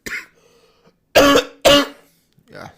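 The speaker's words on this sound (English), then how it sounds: "sorry about the coughs" A podcast host coughs twice in quick succession, loud and harsh and close up. Fainter throat sounds come just before and after.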